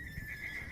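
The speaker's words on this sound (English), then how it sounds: "neighing horse upstairs." A horse neighs once during a tabletop role-playing game session, a short bright whinny with a wavering pitch, alone and fairly close.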